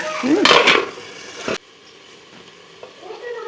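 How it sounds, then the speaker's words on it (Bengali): Spice paste frying in a pan for a taro, potato and snakehead fish curry, a brief burst of sizzling and utensil scraping that cuts off abruptly as a lid goes on, leaving a faint muffled hiss. "এবার আমি একটু ঢাকা দিয়ে মশলাটাকে কষে নেব"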